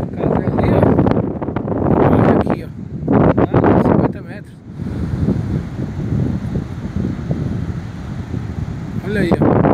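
East wind off the sea gusts hard across a microphone at a hilltop lookout above Praia do Presídio in Ceará, a loud rumbling buffet with brief lulls as someone talks.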